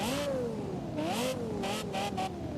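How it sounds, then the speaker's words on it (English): A Lexus LFA's Yamaha-built V10 revs in a racing game, a loud, high-pitched engine wail that swings up and down through several throttle blips over continuous engine drone. "This is the hands down best sounding V10."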